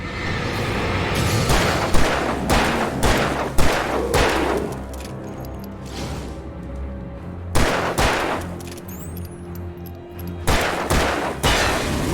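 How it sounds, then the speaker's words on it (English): Repeated gunfire from the video game Alan Wake Remastered, a run of loud close shots in separate bursts with pauses between, some ringing and booming, and no talk over them. "It took like 10 bullets to kill him."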